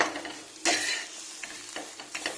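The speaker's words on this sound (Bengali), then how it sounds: "প্রায় করলা ভাজাটা হয়ে গেছে" Bitter gourd fries in a pan with a constant close sizzle, punctuated by scraping stirs of a spatula and light metallic taps against the pan, no talking.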